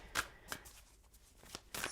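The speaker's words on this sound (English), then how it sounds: "One more shuffle, please." Tarot cards being shuffled up close: quick riffling bursts, a couple of short rustles followed by a louder final flurry, fairly quiet overall.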